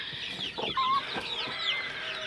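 A young rooster clucks in a few quick, close bursts among farm poultry, clear and alone with no talk.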